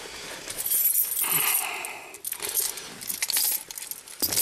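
Keys jangle in bursts close to the mic, bright metallic clinks in a couple of clusters with pauses between, set against faint outdoor background during winter snow plowing.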